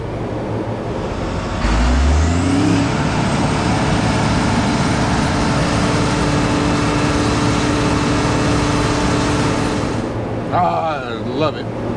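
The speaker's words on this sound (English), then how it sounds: "the sound of a cotton picker fan spooling up" A cotton picker's fan spools up during harvest, a low rising whine that climbs over a couple of seconds into a loud, steady roar that holds before easing off near the end.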